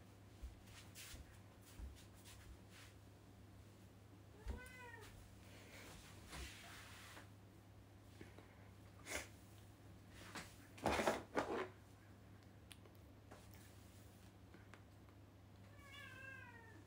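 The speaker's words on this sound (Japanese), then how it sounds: "え、ずっとニャーニャー泣いてるんだけど、" A cat meows in a quiet indoor room, with several separate rising cries spread out over time and a few knocks and drawer-like bumps between them.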